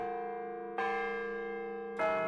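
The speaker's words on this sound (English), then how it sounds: "the chimes in the Orton Bell Tower" Sustained chimes from Orton Hall's bell tower at Ohio State ringing in steady tones, a new note entering partway through and another near the end, with no voices.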